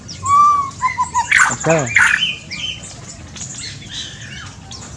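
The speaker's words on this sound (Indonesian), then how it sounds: "Burung-burung rajin bunyi, semua bunyi beradu kayak gitu-gitu" White-rumped shamas and other aviary birds squawk, whistle and chirp in quick, overlapping bursts close by, with a short spoken word from a person at the start.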